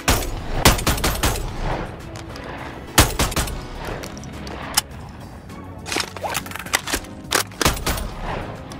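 Fully automatic fire from a modded gun in the VR game Bonelab: rapid bursts of loud, sharp shots in several clusters, with short pauses between strings of rounds.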